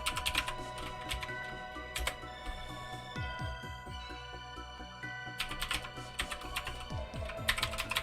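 Fast typing on a computer keyboard runs steadily near the microphone, with dense rapid key clicks and a few louder bursts, under background game music and no speech.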